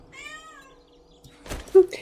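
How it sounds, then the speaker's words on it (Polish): A house cat gives one drawn-out, falling meow, fairly close, followed by brief scuffling and clattering noises. "Co tak dziwnie miałczysz?"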